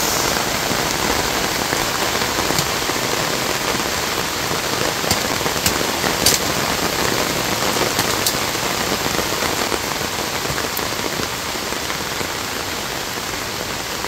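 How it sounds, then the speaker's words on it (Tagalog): Heavy rain pours steadily onto a hillside sweet potato farm, a dense, unbroken hiss of drops on surfaces and foliage with no talking. "Uy, lumakas na po ang ulan."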